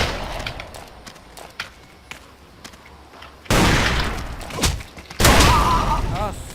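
Pistol gunfire in the first-person shooter Ace of Spades: a couple of loud, sharp shots and bursts break out after a stretch of faint clicks and taps, with players talking in the background.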